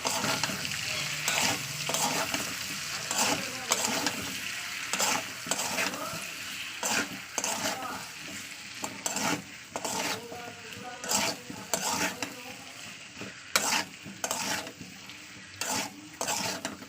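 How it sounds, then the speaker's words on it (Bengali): Ginger garlic paste, turmeric and green chilli sauté in oil for a prawn curry with cumin paste, with a continuous sizzle and repeated spatula scrapes and taps against the pan throughout. "তেলের উপরে আদা রসুন আর হলুদটা ভালো করে কষিয়ে নেব"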